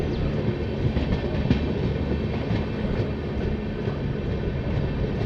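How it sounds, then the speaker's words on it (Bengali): Tebhaga Express passenger train with LHB coaches running into Pakur station; continuous close rumble of coaches with faint wheel clatter, heard alone without talk. "ট্রেন পাকুড় স্টেশন এন্টার করছে"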